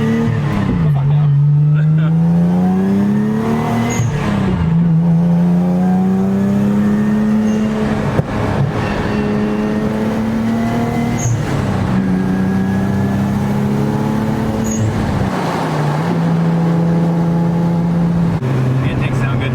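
A motor-swapped Nissan 370Z engine with fabricated intakes heard from inside while driving, a loud, steady droning engine note that repeatedly dips and climbs with shifts and acceleration, with occasional voices over it.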